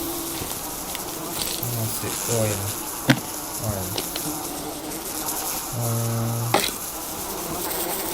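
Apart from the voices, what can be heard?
bees buzzing in the video game Sons of the Forest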